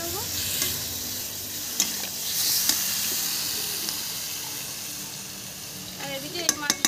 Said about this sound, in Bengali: এবার কিন্তু এটা আমি ভালো করে আবারও একটু কষে নেবো।